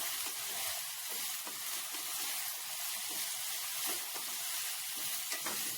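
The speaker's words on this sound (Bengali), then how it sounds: "আমি ভেজে নিচ্ছি। ভাজাটা সোনালি হয়ে এলে তাতে দিয়ে দেব 4টে বড় সাইজের কুচিয়ে রাখা পেঁয়াজ" Ginger and spices for a chicken curry fry in a pan, producing an even, continuous close hiss and sizzle with faint stirring and no voices.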